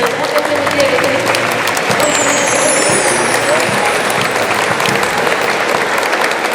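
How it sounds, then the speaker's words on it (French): An audience applauds steadily and loudly throughout, dense clapping filling the room, with a faint high whine and some low rumble mixed underneath. "c'est vous tous que je voudrais qu'on applaudisse"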